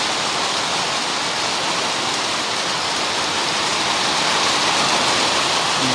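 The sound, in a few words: heavy rain pouring down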